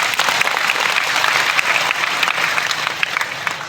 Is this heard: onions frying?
no